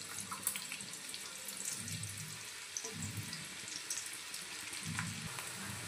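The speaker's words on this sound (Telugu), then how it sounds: "ఒక పెద్ద సైజు ఉల్లిపాయను అయితే సన్నగా పొడవుగా కట్ చేసుకొని ఆయిల్లో వేసేసుకొని ఫ్రై చేసేసుకోవాలి." Thinly sliced large onion frying in oil in a pan, a steady close sizzle with occasional low stirring scrapes, no voices.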